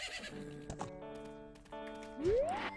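A horse in the video game Majora's Mask gives a whinny over soft clip-clop hoofbeats, set against a bright synthesized musical score, with a rising electronic chime near the end.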